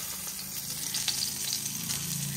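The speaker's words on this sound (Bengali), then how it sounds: "ইলিশ মাছের মাথাটাকে এপিট ওপিট করে ভেজে নিয়েছি।" A hilsa fish head fries in oil in a kadai, producing a steady close sizzle with light crackling and a faint stirring scrape, unbroken by speech.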